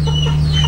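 A Serama chicken clucks close and loud in a single brief burst over a steady low hum.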